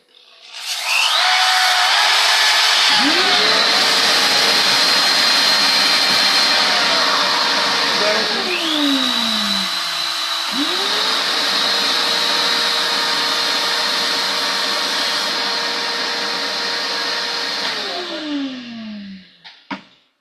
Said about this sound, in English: So if I'm taking my power sander now,